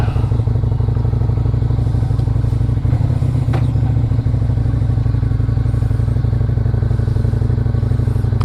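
A Lifan Lycan 250 motorcycle engine runs at a steady idle close by, a loud continuous low rumble with light rattling and no clear revving, with no voices.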